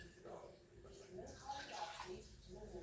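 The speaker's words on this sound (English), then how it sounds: "I put a little water for it to boil." Water is poured into a cooking pot with chicken in it, a soft continuous splashing and trickling that stays fairly quiet throughout.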